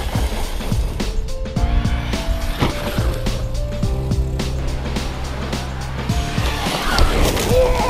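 An ARRMA Nero Big Rock BLX RC car runs at full power on beach sand, its electric motor whining in rising and falling tones through repeated bursts of acceleration, with gritty scrabbling and a hint of wind, close and loud.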